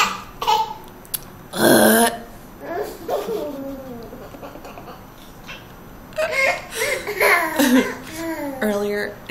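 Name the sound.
mother imitating burping, baby laughing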